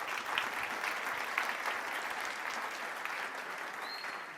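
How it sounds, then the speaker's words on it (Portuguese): A church congregation claps in a steady round of applause for Jesus during a worship program, even dense clapping that is moderately faint and continuous throughout. "Dê para Jesus uma forte salva de palmas"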